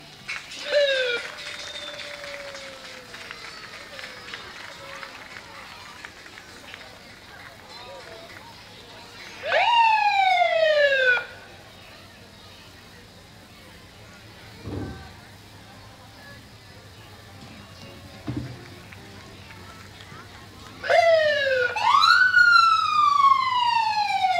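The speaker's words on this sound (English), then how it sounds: "here is the Lake Forest Police Department with an old-time police car" An old-time 1985 Dodge Diplomat police car in a town day parade sounds its siren in short rising wails, three bursts spread across the stretch, with a couple of brief thumps in between under outdoor crowd noise.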